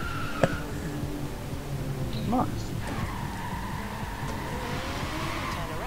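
A car in the racing game Forza Horizon 3 spins its wheels with squealing tires, a steady engine drone under a voice talking over it.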